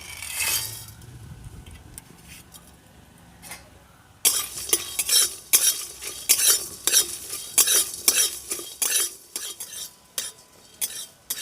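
Whole spices (nutmeg, cloves, cinnamon, mace, black peppercorns, green cardamom, cumin, dried red chillies and coriander seeds) dry-roasted in a pan, quiet at first, then a steady run of close scraping and rattling stirs with no talk.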